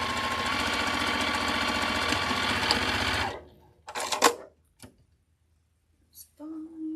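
A sewing machine back tacks along quilt seams in a steady close whirring run for about three seconds, then stops, followed by a couple of short bursts and light handling sounds in near silence.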